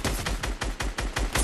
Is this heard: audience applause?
no